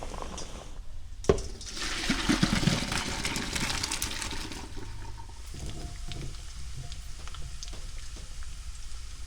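Cooked potatoes being drained at a stovetop, water pouring and splashing steadily for several seconds after a sharp clatter, then a softer running trickle with small knocks.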